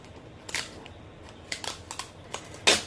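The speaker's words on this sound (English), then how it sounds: "Take this tape off." Old painter's tape peeled off a graded comic book slab in a few short, crisp tearing rips, close and fairly quiet, with small plastic ticks between them.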